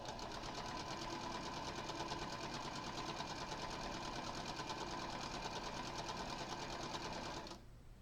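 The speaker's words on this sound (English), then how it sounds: "I don't have one of those fancy fast sewing machines" A slower home sewing machine, not a fast model, runs in a steady close-up whirr with a rapid repetitive stitching rhythm, continuing almost the whole time before cutting off at the end.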